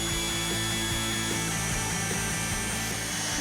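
A power drill boring dowel holes into wood, a loud, steady motor whine with a low rhythmic pulsing as the bit cuts, continuous and close throughout.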